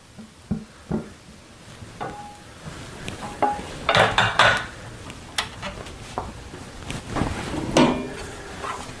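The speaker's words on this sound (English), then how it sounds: "we'll take our noodles and we'll add those to the bottom of our pan" Zucchini noodles and bits of fresh garlic go into a pan, with soft clattering, scraping and light handling knocks scattered through, a brief burst of louder rustling midway, and no talk.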